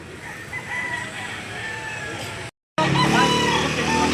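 Chickens and a rooster at the Lipa livestock auction market, with crowing and clucking amid a busy crowd and traffic noise; a short gap of silence splits the clip, and a voice is heard talking.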